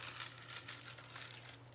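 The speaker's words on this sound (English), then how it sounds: "you just fold it in half again, and then you get your corners, and you just keep on folding it" Soft crinkling of parchment paper being folded repeatedly, quiet and close, with a faint steady hum underneath.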